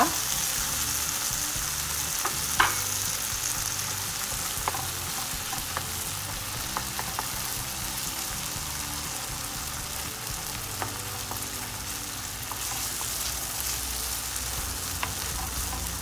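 Two eggs scrambling in a frying pan with dried masala macaroni, a steady soft sizzle and frying crackle throughout with occasional spatula clicks and scrapes, no voices.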